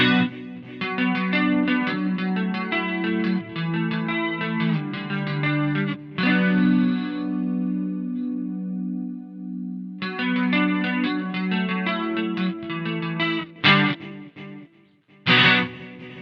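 Electric guitar through a Boss overdrive pedal, with a gritty overdriven tone, plays chords and riffs, pausing briefly before resuming with a few sharp, loud strums; no voices.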